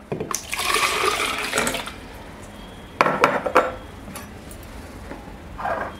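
Water splashes and pours for a homemade fat-loss smoothie, with dish and utensil clatter in bursts, a busy stretch early, another brief pour midway, and a soft rush near the end.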